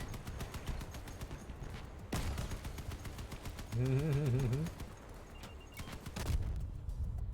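Cannon shots and rapid gunfire in the vehicle combat game Crossout, faint repeated bursts with sharper thumps, a sudden whining mechanical tone in the middle, and no clear talk.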